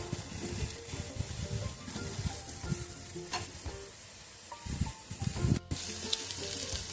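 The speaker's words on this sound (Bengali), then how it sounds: "নাড়াচাড়া করে ভাজতে দেবো আবার।" Onions stir-fried in a pan for a vegetarian flattened-rice pulao: a quiet, continuous sizzle broken by scraping stirs of the spatula, with no talking.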